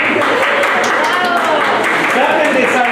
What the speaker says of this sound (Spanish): Hasta los de atrás aplauden.